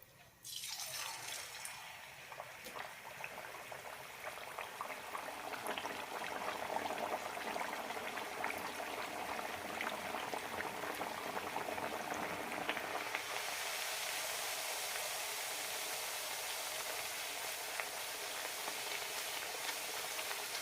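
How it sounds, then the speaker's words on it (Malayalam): A rice-flour pal pathiri flatbread drops into hot oil and fries with a steady, bubbling sizzle that starts abruptly and grows fuller and brighter, continuing close and unbroken with no talking. "എണ്ണ നന്നായി ചൂടായി കിട്ടണം എണ്ണ ചൂടായിട്ടുണ്ട് ഇതിലേക്ക് ഇടാം"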